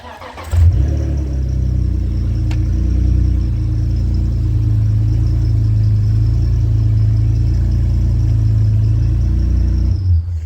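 The engine of a BMW E46 328i drift build starts and then runs at a steady, loud idle, with a deep, even drone that continues unbroken for about ten seconds before cutting off.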